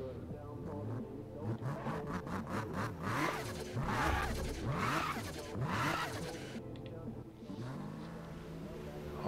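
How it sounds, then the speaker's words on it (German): Turbo whoosh and engine revving from a street-racing car in Need for Speed (2015), rising and falling in repeated sweeps, loud and continuous with a voice talking over parts of it. "Voll geil, wie die Turbo-Sounds gemacht haben."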